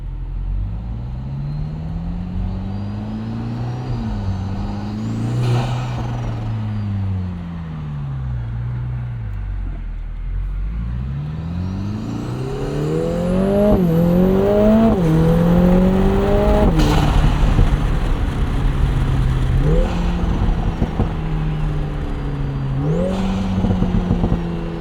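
A 2024 Lotus Emira Turbo, a 400 hp AMG-powered sports car, revs hard while driving, its engine rising and falling through several gear pulls with turbo boost and exhaust pops over steady road noise, loud and close without talk.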